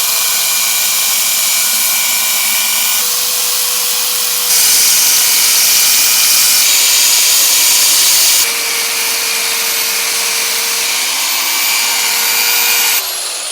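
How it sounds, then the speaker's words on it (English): A borrowed tube sander works on Land Rover axle parts, a loud, steady high whine that shifts pitch and intensity several times as pressure on the metal changes, with no voices. "snagged his tube sander"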